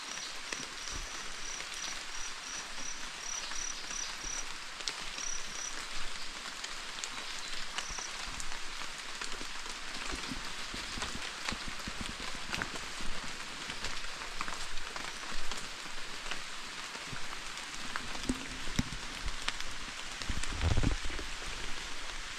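Steady rain falling outdoors in the countryside, a soft continuous patter on surfaces with occasional nearer drips and faint insect chirps, no voices.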